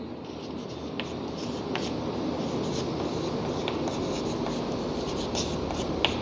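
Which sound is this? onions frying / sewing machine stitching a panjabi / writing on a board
writing on a board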